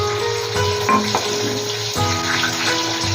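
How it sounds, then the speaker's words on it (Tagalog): Water splashes and runs continuously into a cooking pot while a simple provincial dinner is prepared in a home kitchen, with light clinks over the pouring and no talk. "Nalagyan ko lang ng tubig konti."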